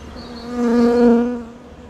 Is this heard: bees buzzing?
yes